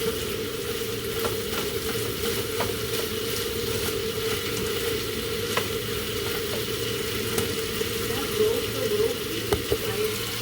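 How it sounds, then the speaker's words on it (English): A steady sizzle of food frying in a pan, with faint crackles and pops over the hiss. "it's probably just gonna keep frying just a little bit"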